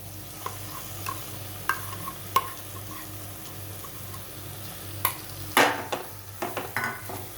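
Ground horse gram is stirred into a frying masala paste in oil, with quiet scraping spoon strokes and soft sizzling, punctuated by a few louder clinks against the pan near the end.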